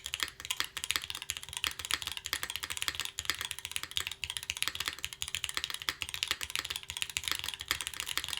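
Steady, fast typing on an Optica 60% mechanical keyboard, a continuous run of close, crisp keystrokes with no talking over it.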